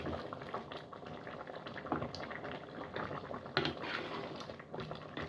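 Sylheti curry of vegetables with prawn simmering in a cooker pot, a steady soft bubbling boil with occasional louder pops and gurgles, close and continuous with no talking.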